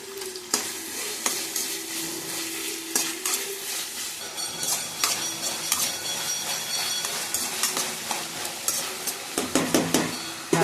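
Tomatoes sizzle and fry in a pan for a Tamil tomato kurma, with a spoon stirring and scraping against the metal in steady strokes. The sizzle stays constant, and cutlery clinks now and then. No one speaks.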